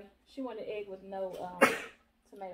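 A single sharp, close sneeze bursts out in the middle of conversation at a table with burgers, wings and fries, with speech before it and after it.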